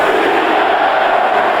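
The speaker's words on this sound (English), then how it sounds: "Listen to this crowd now." A packed stadium crowd roars at a 1997 NFC Wildcard playoff game between the Detroit Lions and Tampa Bay Buccaneers, a loud, steady, continuous wall of cheering with no breaks.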